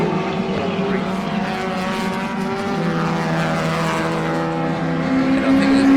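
Master Power Datsun race car engine howling on a Manawatu Car Club track, loud and steady with sustained harmonic tones shifting slightly in pitch, running alone without talk.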